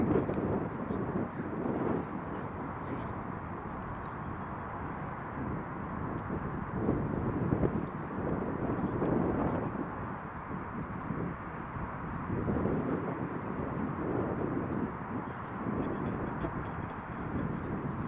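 An Emirates Airbus A380 on the runway at Glasgow Airport after landing, a steady broad engine roar with wind buffeting the microphone, fairly loud and continuous throughout, with no talk over it.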